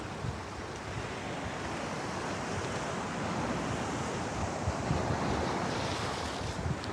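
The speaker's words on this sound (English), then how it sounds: "Right now I'm just on a beautiful beach, walking around, listening to the waves" Ocean waves wash continuously onto a beach, a steady broadband roar of surf with wind buffeting the microphone, swelling slightly louder toward the end with no voices present.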